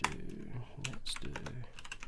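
Quiet, irregular clicking of computer keyboard keys pressed in short uneven bursts, with a faint background murmur.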